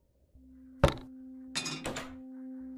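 A gun drops onto the floor in a video game, one sharp clattering thunk followed a moment later by a couple of smaller rattling knocks over a low steady hum.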